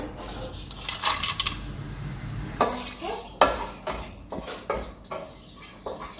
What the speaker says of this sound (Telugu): ముందుగా ప్యాన్ పెట్టుకొని దాంట్లో కొంచెం ఆయిల్ వేసుకోవాలి. ఫస్ట్ మసాలా ఐటమ్స్ వేసుకోవాలి.